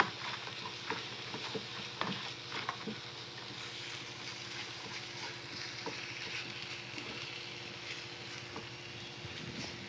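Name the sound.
stirring and frying a filling in a pan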